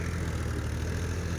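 A Mahindra Yuvo Tech 585 tractor runs in a loamy field during ring ploughing, its engine a steady close low drone for a brief moment with no talking.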